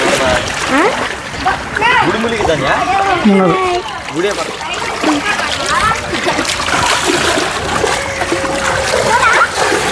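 Floodwater splashes and sloshes around flooded village houses near a boat. The water sounds continuous and fairly loud, and people talk and call out over it the whole time.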